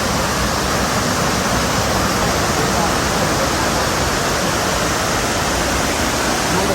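Tak Yai waterfall in Phetchabun, Thailand, heard up close as a steady, loud, dense rush of falling water that fills the scene without letup.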